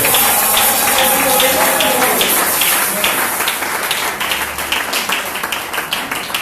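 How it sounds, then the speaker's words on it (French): Church congregation applauding and cheering in acclamation during a worship service, a loud, continuous wash of clapping and raised voices that grows choppier toward the end. "Donnons les grandes acclamations au Seigneur"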